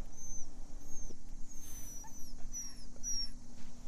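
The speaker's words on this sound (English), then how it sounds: "It's a nice dog you got here." A dog whimpers in faint, high, repeated whines and yips over a quiet outdoor background, with no talking.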